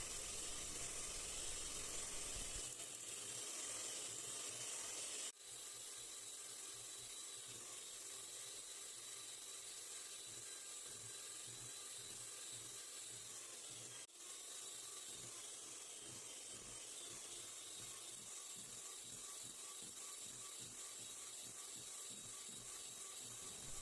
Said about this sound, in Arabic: نجيب الضراب الكهربائي ونخفق البيض مع السكر مليح حتى يتضاعف الحجم نتاعهم